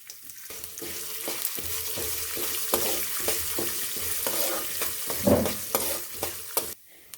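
Steady frying sizzle of mustard seeds and urad dal in hot oil, with scattered pops and crackles and a few stirring clinks, close up with no talking.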